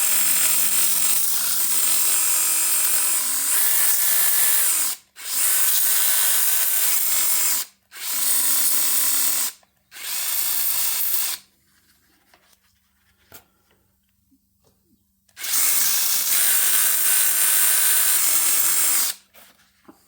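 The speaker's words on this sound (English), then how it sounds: "I think I can take care of that with some sanding" A power sander works on the foam nose of a model P-51 Mustang plane, whirring loudly in four sustained bursts separated by brief stops, then a quiet pause with faint clicks, before one more long run.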